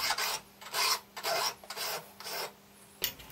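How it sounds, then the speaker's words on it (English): Hand file deburring a freshly milled metal part, giving about seven distinct rasping strokes in an uneven rhythm, close and crisp with short pauses between them and no talk. "The end mill left a few burrs, so I'll clean that up."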